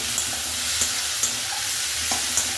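Bengali-style fish gravy masala of kathkoi fish being stir-fried in a pan with salt, a continuous hiss of sizzling oil punctuated by several soft, regular clinks and scrapes of the stirring spoon, close up.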